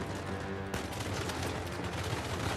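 Gunfire rattles through a gunfight in the video game Uncharted 4, with dense overlapping shots and bursts, loud and continuous, plus one sharp blast partway through, and no voices.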